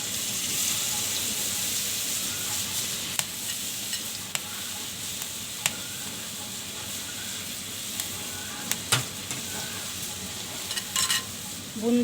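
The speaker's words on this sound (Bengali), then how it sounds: "বুন্দিয়াগুলো হালকা করে ভেজে নিতে হবে।" Boondi batter drops frying lightly in hot oil, a continuous soft sizzle with occasional sharp clicks of a spoon, fairly close and steady.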